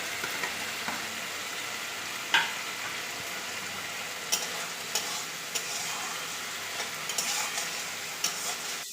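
Diced potatoes sizzle and crackle in hot oil with spiced masala for a Bengali rui fish-head muri ghonto, while a spoon scrapes and stirs the pan in sharp, irregular clicks over a steady, moderately close fry.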